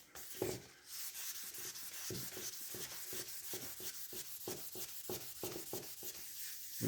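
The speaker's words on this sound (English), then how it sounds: "The thing with sanding, especially colour sanding" Colour sanding done by hand, a steady back-and-forth rasping rub with regular strokes roughly every half second, close and fairly loud, continuing alone without talk.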